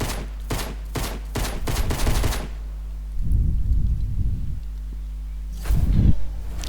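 Weapon gunfire in Fortnite Creative, a quick series of loud sharp shots at the start, then heavy booming blasts later on over a constant low hum, with no talking.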